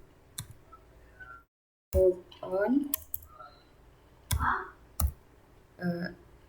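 Computer keyboard typing during a math computing tutorial, several short clicks and taps in irregular bursts, with a voice talking between them.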